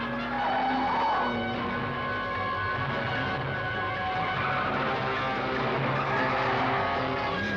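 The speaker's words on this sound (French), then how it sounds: "C'était un dérapage contrôlé." Car tires screech through a long controlled skid on a car with tampered brakes, with engine noise alongside as the squeal rises and wavers for several seconds, loud and close.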